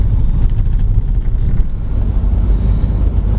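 2023 Nissan Kicks VL e-Power crossover running in EV mode over speed humps and rumble strips, heard from inside the cabin as a steady low road rumble with irregular thumps and some wind noise.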